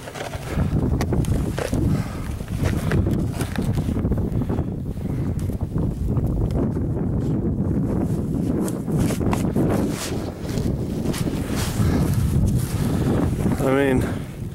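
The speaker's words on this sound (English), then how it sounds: "It's just the wind blows the snow around." Wind drives snow through a blizzard, a steady, loud roar of gusts buffeting the microphone without let-up, with a muffled voice faintly underneath.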